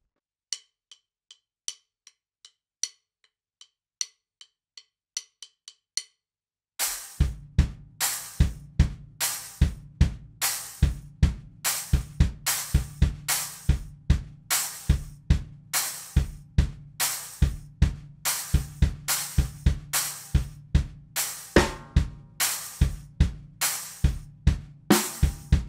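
A drum kit plays a slow bass drum triplet groove without a metronome, opening with light, sparse cymbal taps before the full kit enters with steady, punchy kick-and-snare hits repeating in a rolling triplet rhythm.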